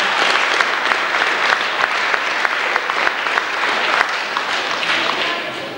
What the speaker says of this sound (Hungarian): Egy tapsot megértem.